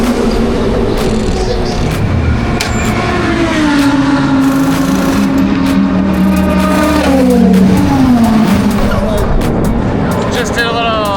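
Race cars in pit lane at the 12 Hours of Sebring, with engines revving and passing close and loud in rising and falling sweeps, while someone talks over the steady roar.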